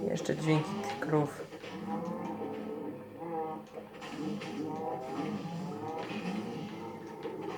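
Several cows moo in overlapping, drawn-out calls in Minecraft Dungeons, fairly loud and close, with a game-like backdrop and no clear talk.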